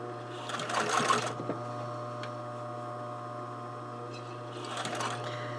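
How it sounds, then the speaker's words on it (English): A sewing machine edge-stitches a shirt collar in two short bursts of rapid needle chatter, one at the start and one near the end. A steady electrical hum from the idling machine runs between them. "I might just edge stitch the collar out of my way so that I don't have to spend as much time pressing it."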